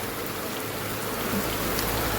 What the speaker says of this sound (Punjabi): ਮੀਂਹ ਬਹੁਤ ਪੈ ਰਿਹਾ ਉਦੋਂ ਦਾ